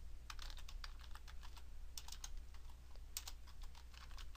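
Quick bursts of keystrokes on a computer keyboard as a pattern name is typed in Photoshop, crisp close clicks in short clusters with brief pauses, quiet and alone without any voice.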